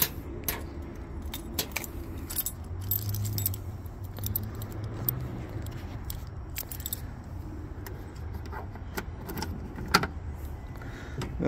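Keys jangle and clink in irregular bursts close by inside the cab of a Kioti NS 6010 tractor, a 60 horsepower model, with a low steady hum underneath.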